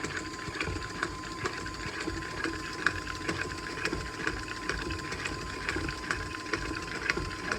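Electric mixer creaming oatmeal raisin cookie dough with an egg and vanilla, a steady mechanical whir with a rhythmic grinding chatter, close and continuous with no talking.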